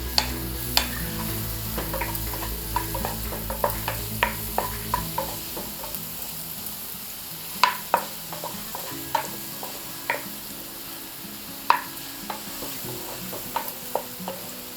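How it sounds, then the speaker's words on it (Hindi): Finely chopped mushrooms fry in butter in a pan, a soft steady sizzle broken by sharp, irregular clicks and scrapes of a spoon stirring, with no voices. "अब इसमें 2 से 3 चम्मच मशरूम को बहुत बारीक काट लिया है और इसे इसी में डाल के फ्राई कर लेंगे"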